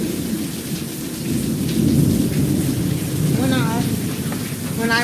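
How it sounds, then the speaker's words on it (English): Heavy rain hisses steadily through a severe thunderstorm, with low thunder rumbling underneath, heard from a sheltered spot outdoors. A brief chirp sounds near the end. "the U.S. National Weather Service has issued a severe thunderstorm warning"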